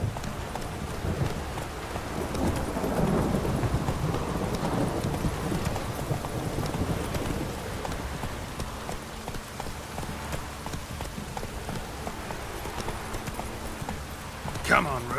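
Hooves of the horse Roach in The Witcher 3: Wild Hunt, a steady clip-clop gait running continuously at moderate level, with a person talking over it.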